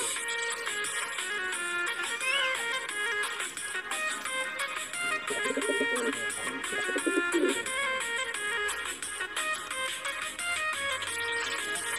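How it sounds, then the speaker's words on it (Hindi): Pigeons in a Pakistani village, soft cooing calls heard through a constant bed of other birdsong and background noise, with a brief louder coo cluster in the middle. "ये हमारे कबूतर"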